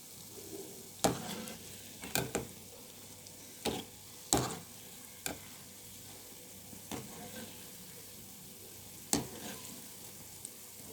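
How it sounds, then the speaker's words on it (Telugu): Gulab jamun dough balls deep-fry in oil over a low flame, a soft continuous sizzle broken by occasional sharp scrapes and clinks as a utensil stirs them in the pan. "చక్కగా ఫ్రై చేసుకోవాలి. సిమ్లో ఉంచుకొని లోపల పిండి అంతా ఉడుకుతుంది."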